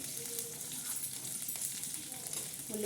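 Red chillies fry in hot oil with a soft, continuous sizzle, heard at a fairly low level with little variation throughout.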